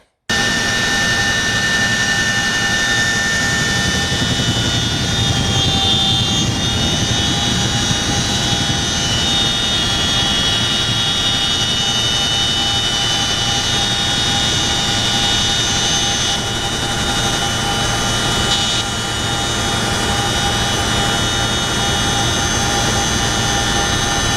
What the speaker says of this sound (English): Then you hear the power of the engines increase,